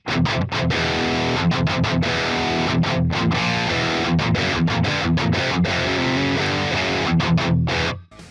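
Electric guitar played through an amp with a boost engaged, dialed to a classic metal tone: loud, distorted palm-muted riffing with sharp rhythmic stops, heard alone and close, ending abruptly.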